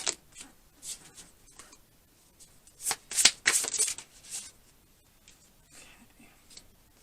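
Reading cards being handled and shuffled in quick bursts of riffling and sliding, close and crisp, with a quiet voice speaking softly between the bursts.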